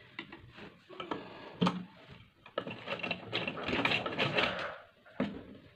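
A domestic sewing machine set to stitch length 3 runs in bursts, sewing two panels of a net pleated skirt together in a round seam, with a rapid mechanical ticking whir at close range and short pauses between runs.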